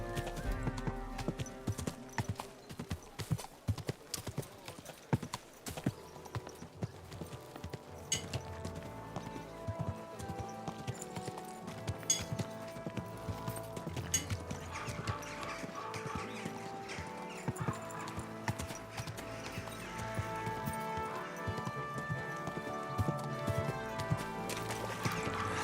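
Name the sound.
horse hooves clip-clop from a video game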